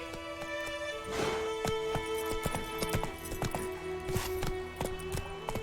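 Horse hooves trot in The Witcher 3, regular clip-clop beats running steadily throughout over a bed of game music and ambience, fairly close and moderately loud.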